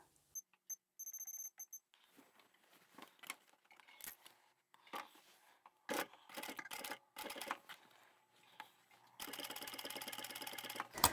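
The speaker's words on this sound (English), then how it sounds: "And now we can do the top stitching, and I'll increase the stitch length to 4 again." A sewing machine runs top stitching on a tablet pouch in short bursts separated by pauses, with a longer, denser run of rapid stitches near the end.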